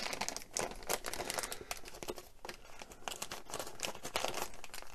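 Paper packaging rustles and crinkles steadily as the parts of a VW Käfer model kit are unwrapped close by, with dense crackling and a few sharp tearing bursts and no one speaking.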